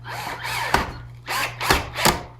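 A power drill drives screws to mount a Triton TRA001 router onto a Kreg plate, giving four short, close whirring bursts with brief pauses between and no talk.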